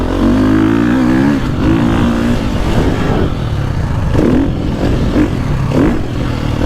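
A 450cc motocross bike, either a KTM 450 Factory Edition or a Gas Gas MC450, is ridden with an Akrapovic exhaust. The engine stays loud and close throughout, with throttle blips and revving surges and no talk.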